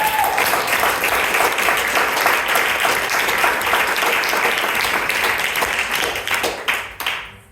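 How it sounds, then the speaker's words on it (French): Sustained, loud audience applause at an improv theatre cabaret, dense clapping that tapers off near the end, with faint crowd voices underneath. "Je voudrais remercier déjà à la régie, s'il vous plaît, on peut l'applaudir très fort"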